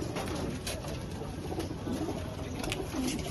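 Pigeons coo softly in low, throaty bursts amid a busy rooftop din of shuffling and rustling, several birds close by with overlapping murmurs.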